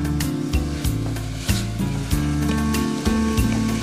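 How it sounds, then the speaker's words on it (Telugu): Vegetables with ginger garlic paste sizzling and frying in a pan for millet vegetable khichdi, a loud continuous sizzle broken by repeated scraping and knocking of a spoon stirring against the pan. "అవి కొద్దిగా వేగనివ్వు."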